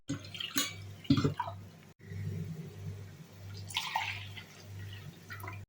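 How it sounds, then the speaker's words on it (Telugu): Rice is washed by hand with water inside a pressure cooker, giving close, intermittent sloshing and swirling splashes with short pauses between bursts. "ఒక కప్పు బియ్యం కుక్కర్లో వేసుకొని శుభ్రంగా వాష్ చేసుకోవాలి."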